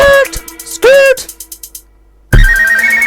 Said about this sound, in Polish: Ej, telefon dzwoni, nie mogę tu przestać